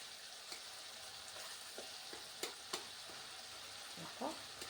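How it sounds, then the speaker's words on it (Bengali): Boiled tomatoes stirred and mashed with a metal spatula in a pan, a quiet soft sizzle with a few light scraping taps spread across the stretch, faint and close, no talking. "ভালো করে খুন্তির সাহায্যে সবগুলো টমেটোকে মিশিয়ে দেবো"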